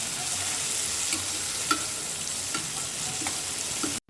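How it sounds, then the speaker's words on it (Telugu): Poppy seeds and sliced onions sizzle in oil over a low flame, a steady close frying hiss broken by a few soft stirring clicks before the sound cuts off abruptly near the end. "పావు కప్పు వరకు ఆనియన్ చీలికలు వేసుకుని వాటిని కూడా బాగా ఫ్రై"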